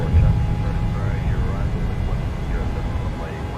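A PMDG 737-800 airliner rolling for takeoff in Microsoft Flight Simulator, a steady loud engine roar with a low rumble, constant throughout, with talk over it.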